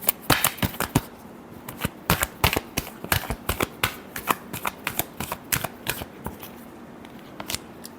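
Tarot cards being shuffled in a dense run of crisp riffling flicks and taps over eight seconds, close and fairly quiet, with no talking.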